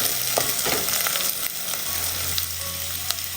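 Chopped green chillies frying in a pan as they are stirred, a loud continuous sizzle with spatula knocks and scrapes scattered throughout, heard close with no talking.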